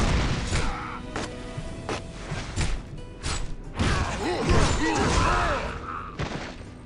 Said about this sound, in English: This pulls all enemies closer to the Berserker and then unleashes a very powerful